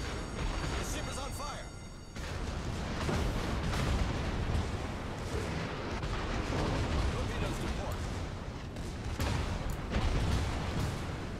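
Ships in World of Warships fire HE shells: booming shots and explosions thud through a dense, rumbling battle soundscape, while a player talks over the noise.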